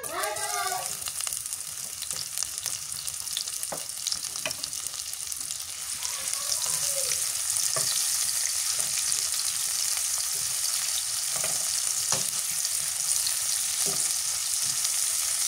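Onions fried in hot oil in a home kitchen, giving a steady, loud broadband sizzle that lasts the whole clip, with occasional stirring clicks and scrapes and no speech.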